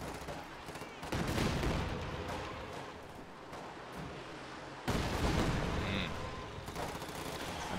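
Artillery fire in Company of Heroes 2 mixes booms and rattling gunfire into a heavy, continuous battle din, with sharp louder bursts near the start and again midway.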